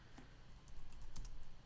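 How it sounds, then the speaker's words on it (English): A short burst of keystrokes on a computer keyboard while entering a password, a few close clicks clustered together over a faint background hum, no voices. "Just typing in a password there."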